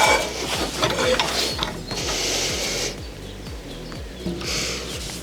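A ratchet or wrench clicks in quick, steady repeated strokes while the upper strut mount nuts are loosened on a BMW E34 during a suspension rebuild, close and fairly clear, pausing briefly midway before continuing.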